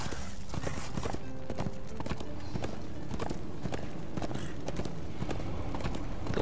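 A horse gallops in Darksiders 2 Deathinitive Edition, steady rapid hoofbeats pounding under game music and effects, loud and close throughout.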